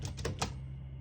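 A 1933 Underwood Universal four-bank portable typewriter, its backspace key pressed in a few sharp mechanical clacks early on, followed by a steady low hum in the background.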